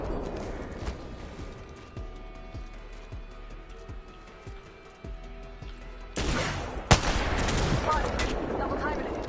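Gunshots in a video game during aim practice, a steady series of sharp shots spaced about every half second, then a louder burst of rapid gunfire near the end, under occasional quiet talk.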